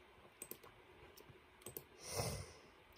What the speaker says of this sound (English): I should just type it up